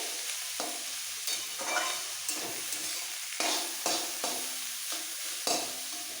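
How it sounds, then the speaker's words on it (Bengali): Shredded cabbage frying and being stirred in a pan, steady sizzling interrupted by repeated scraping strokes of a spatula roughly every half second, close up and without talk. "বাঁধাকপি ভাজতে ভাজতে একদম ঝরঝরে হয়ে গেছে"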